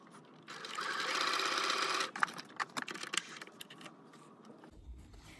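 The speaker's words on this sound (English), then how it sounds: "Now I'm going to sew the dart." A sewing machine stitches a dart in a fabric face mask, running in a steady whir for under two seconds before stopping, followed by a string of light mechanical clicks and taps.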